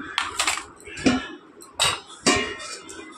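Metal utensils clink and scrape against dishes while serving mushrooms fried with onion and bottle gourd with prawns into a bowl; several sharp knocks and clatters come in irregular bursts, close and moderately loud, with no talk.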